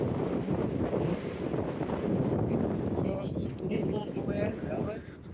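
Strong wind buffets the microphone at a wild camping spot, a dense low rumble that blusters steadily and eases slightly near the end, with someone speaking over it.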